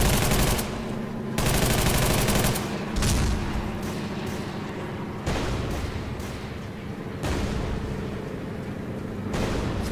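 Rapid gunfire fills a BattleRush first-person shooter match, with loud bursts of automatic fire broken by short pauses and heavy blasts, close and continuous for the whole stretch.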